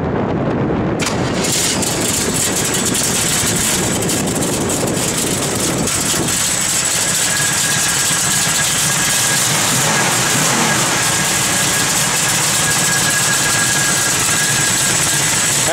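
A 1969 Chevrolet Camaro SS fires up and settles into a loud, close, steady idle with a rough, continuous rumble that fills the whole stretch.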